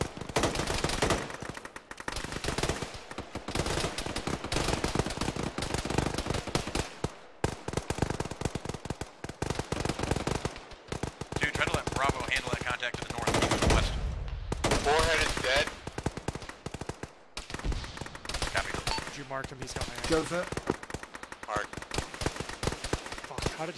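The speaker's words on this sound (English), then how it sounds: "There's a big something firing to the north." Heavy weapons fire across an Arma battlefield in a ShackTac session, a long stretch of rapid, continuous automatic bursts with brief pauses, mixed with radio chatter from players.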